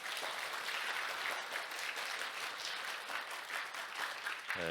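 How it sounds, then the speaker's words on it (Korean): Church congregation applauding to welcome visiting missionaries at a Sunday service, a steady, even patter of many hands clapping, fairly quiet and distant throughout. "한번 박수로 환영하겠습니다"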